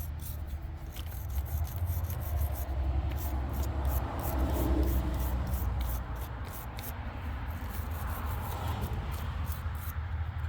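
A wire brush scrubs corrosion off car battery terminals in steady back-and-forth rasping strokes, close and continuous, with no voices.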